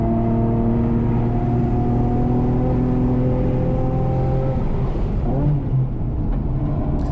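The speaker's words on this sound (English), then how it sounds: "The VQ37 is an engine that people either love or hate the noise of." A Nissan 370Z with its VQ37 engine climbs loudly through the revs on the Thunder Hill 3 Mile race track, then drops and blips on the downshift, heard steadily from inside the car.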